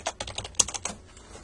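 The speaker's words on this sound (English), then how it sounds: "I'm just typing terribly today." Typing on a computer keyboard: a quick, uneven run of close clicks and taps that tapers off after about a second, with no talking.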